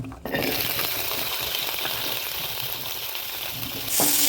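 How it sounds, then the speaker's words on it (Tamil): Garlic and ginger frying in a little oil for a Tamil chicken curry, a steady, loud sizzle that runs without a break and swells sharply near the end, with no talking. "கொஞ்சமாக எண்ணெய் ஊற்றிங்க பூண்டு இஞ்சி உங்களுக்கு அளவு தகுந்த மாதிரி எடுத்துக்கோங்க"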